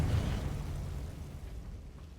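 A Confringo fire spell cast in Hogwarts Legacy, a low rumbling burst that fades out over about two seconds, fairly quiet, with no talking.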